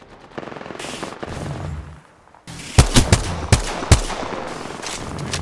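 Automatic gunfire in Apex Legends, with short bursts of sharp, punchy shots after a brief pause, loud and close amid game sounds.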